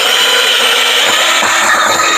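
A power drill with a bit opening to about 1/2 inch bores holes in a plastic Home Depot bucket, giving a loud, close, continuous grinding whine throughout.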